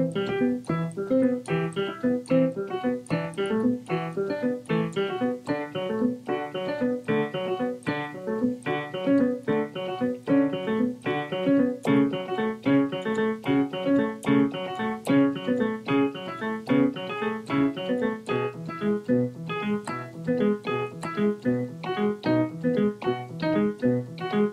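Piano chords in a steady interlocking pattern, the right hand playing two notes against three in the left as the hands move in opposite directions, sounding continuously and alone.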